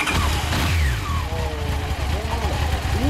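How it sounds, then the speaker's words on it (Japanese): A 2004 Honda CBR1100XX Blackbird motorcycle engine runs in stock form, a steady low rumble with a slight rev change, heard close alongside people talking. "ブラックバードエンジン音聞かせてもらえますか？"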